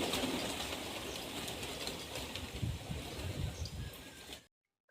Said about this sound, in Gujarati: સવારમાં આપણે કબૂતરને દાણા નાખી દીધા છે અને સરસ મજાના કબૂતર આવી